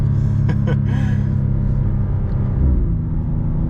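A 2024 BMW M2 CS with a transmission tune pulls away hard on launch control in first gear, a loud, steady low engine rumble and roar that holds strong throughout with a faint rise near the end.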